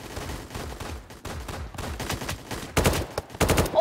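Rapid bursts of suppressed automatic gunfire in a multiplayer war video game, several quick volleys of close shots that swell louder toward the end.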